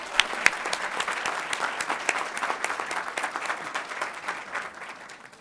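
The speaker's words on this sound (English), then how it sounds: "would y'all please give Clifton a round of applause" An audience applauds at an empowerment speaking event at SMU in Dallas, steady dense clapping throughout that fades slightly toward the end, with no voices over it.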